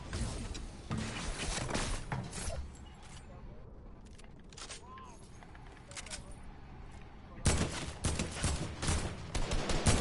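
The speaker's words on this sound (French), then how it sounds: "Je lui ai mis deux balles, d'accord." Gunfire in a first-person shooter match, sharp broadband bursts in clusters near the start and a dense volley toward the end, with a quieter stretch between and players talking over the action.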